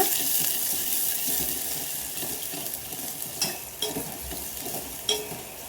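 Finely chopped onion frying and being stirred in a pan for Karnataka-style buttermilk saaru, a steady sizzle with occasional sharper scrapes of the spoon, close and moderately loud with no talk.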